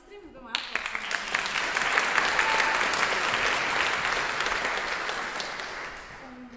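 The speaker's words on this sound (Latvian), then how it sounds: "Es domāju, aplausos." A concert audience bursts into sustained applause for an orchestra at a festival, dense clapping that swells quickly, holds for several seconds and then tapers off.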